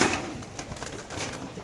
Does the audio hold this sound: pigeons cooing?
yes